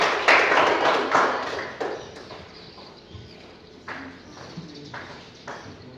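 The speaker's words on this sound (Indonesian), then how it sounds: "tepuk tangan pada kelompok 2" Secondary school students in an Indonesian classroom applaud a presenting group with a short burst of clapping that quickly thins to scattered, faint claps.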